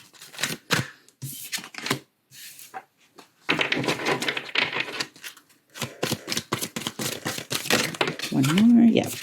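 Oracle cards are shuffled by hand in a series of crisp papery riffles and taps, bursts separated by short pauses, close and fairly loud, with a brief vocal murmur near the end.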